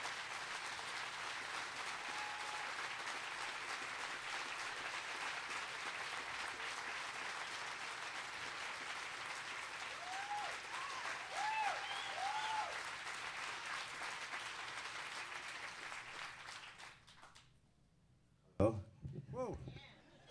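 An indoor audience greets a speaker at a talk with sustained, dense applause that holds steady for many seconds, then tapers and stops, and a voice begins speaking near the end.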